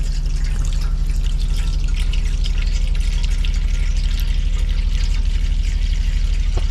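Clean water runs steadily from a hot tap, a close, continuous splashing and trickling stream with no pauses and no talking.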